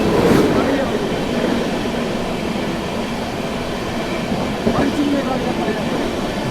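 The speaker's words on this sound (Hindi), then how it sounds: "Vikramshila express crossing with Magadh express eight Vindhyachal outer." Vikramshila Express passenger train crossing the Magadh Express at an outer signal in dense fog, a steady close rumble of rolling wagons with faint wheel clatter throughout.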